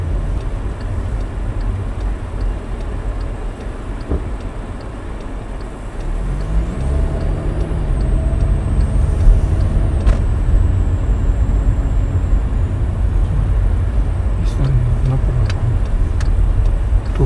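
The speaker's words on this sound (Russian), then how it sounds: "Там тоже вон ходит машина." A car approaches and passes on a rural German village road near Löbau, a rising engine rumble from about six seconds on, moderately loud with no voices over it.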